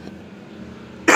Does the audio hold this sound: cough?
yes